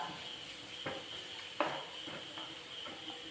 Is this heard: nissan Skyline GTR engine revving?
no